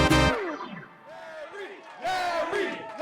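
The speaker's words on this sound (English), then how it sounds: "That was the crowd in Center City cheering for Larry Krasner" A crowd in Center City cheers for Larry Krasner's Democratic primary win for district attorney, with loud echoing shouts and whoops that rise in bursts, a short dip between them, and reverberant, slightly distorted voices calling out.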